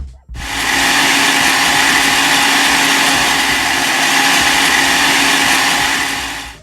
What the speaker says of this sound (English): Then I went in and added the ginger and the garlic only and gave that a blend.